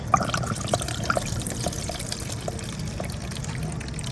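Diesel fuel poured out of a fuel filter from a Mitsubishi Pajero Sport 2.5 TD into a container, a steady close trickle with a few small drips and splashes early on.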